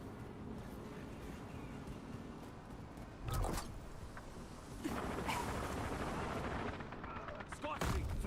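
Gunfire in the video game Black Ops, faint and fairly distant shots with a few sharper louder bursts scattered through, beneath low game ambience and occasional voices.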